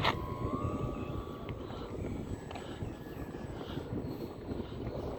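An electric RC Sporter airplane with a one-metre wing and a 2217 motor flies outdoors, its steady propeller hum continuous and fairly faint at a distance, with no talking.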